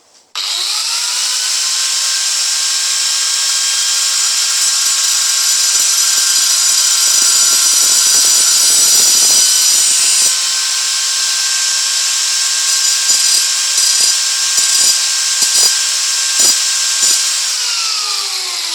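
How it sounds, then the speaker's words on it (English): A power tool grinds down a screw clamped in a mini vice with a loud, steady high-pitched whine that holds for nearly the whole stretch, broken by scattered gritty rasps before it winds down at the end. "so then we can grind that down to the desired length."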